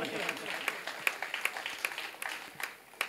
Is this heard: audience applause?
yes